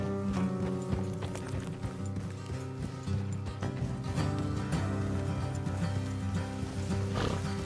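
Rhythmic hoofbeats of horses galloping at a fast pace in Red Dead Redemption 2, with a steady musical score and ambient noise underneath; no talking.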